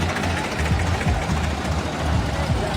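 A long convoy of tractors rumbles past, deep engines idling and knocking in an unbroken low drone, with people talking over the noise.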